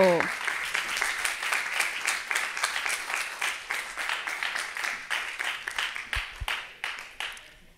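Audience applause at the BID-FEMSA awards ceremony, a sustained round of many hands clapping that runs steadily for several seconds before tapering off at the end.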